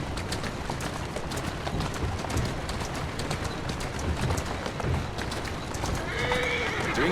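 Horse hooves clip-clop steadily throughout and a neigh or whinny rises near the end, all from a horse in the video game Assassin's Creed Syndicate, with a dense street ambience underneath.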